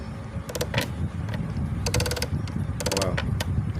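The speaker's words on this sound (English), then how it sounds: "he used chisel now" A chisel is worked into cracked wood during a repair, producing three close bursts of rapid, ratcheting clicks and scraping taps over a low background rumble.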